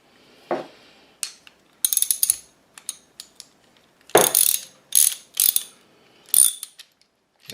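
Ratcheting, mechanical clicks and creaks from a sight pusher tool being tightened on a Glock 36 slide during night sight installation, in a series of short bursts with pauses between them, close and fairly loud.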